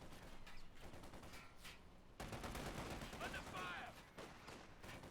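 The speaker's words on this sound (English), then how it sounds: "Got Rakettenwerfer's firing wildly into the abyss." Raketenwerfer anti-tank guns firing in a World War II strategy video game, a very faint spread of repeated gunfire bursts and booms at low volume throughout, with a louder cluster of shots midway.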